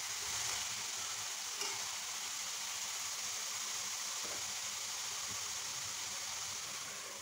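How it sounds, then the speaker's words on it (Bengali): Pointed gourd (potol) frying in a pan, with a steady close sizzle of hot oil and occasional soft scrapes as the pieces are stirred up and down. "পটল দিয়ে ভালো করে উপর নিচ করে নেড়ে চেড়ে দিচ্ছি"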